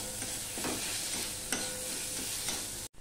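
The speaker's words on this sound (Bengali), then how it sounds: "এবার আদা টমেটো কুচিটা দিয়ে আমি একটুখানি মিনিটখানিক কষিয়ে নেব।" Ginger paste and chopped tomato sautéing in a pan for a vegetarian taro root curry, a steady low sizzle with intermittent scrapes and stirring clicks from a spatula, close and continuous.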